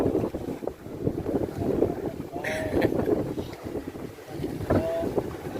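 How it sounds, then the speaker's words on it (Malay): Wind buffets the microphone while waves slap against a fishing boat out at sea, a loud, continuous rushing wash with brief splashes and creaks throughout. "ini laut ini masih berombak-ombak sedikit. Tapi nah, karena angin makanya jadi ombak besar."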